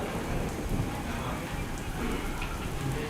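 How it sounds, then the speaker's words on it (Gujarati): Heavy monsoon downpour in the town of Bardoli, Surat, a steady dense roar of rain pouring onto surfaces, loud and continuous throughout with no pauses. "તો સુરતના બારડોલી નગરમાં ધોધમાર વરસાદ ખાબક્યો"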